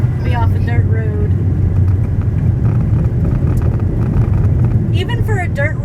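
A 2015 Mitsubishi Outlander SE rolls along a dirt road, its steady low road and engine rumble continuous from the cabin while people talk over it throughout.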